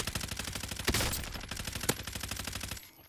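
Rapid automatic gunfire in Call of Duty: Modern Warfare, a fast steady rattle of close, loud shots with two sharper bursts, cutting off abruptly near the end.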